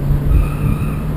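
A BMW M6 with its V10 engine accelerating hard, a loud, close, dense roar with a strong low hum and rising tonal whine, sustained for about a second without speech.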